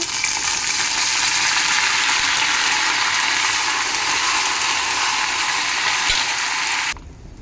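Curry leaves frying in hot oil for a vegetable peel chutney give a loud, steady crackling sizzle that fills the clip close up, then drops off sharply near the end.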